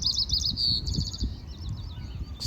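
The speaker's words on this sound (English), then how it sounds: "Some birds in the water." High, repeated chirping calls of birds on the water ring out in quick bursts over a low background rumble, moderately distant, at Fort Flagler State Park with the tide going out.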